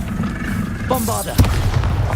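A Bombarda explosion spell from the video game Hogwarts Legacy goes off in a single sharp, loud blast with a low rumbling tail, preceded by a brief voice over a steady game background.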